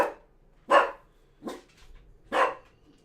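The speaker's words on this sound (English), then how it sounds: "My dog's barking a lot" A dog barks loudly and close by, four sharp separate barks spaced about a second apart, with quiet in between.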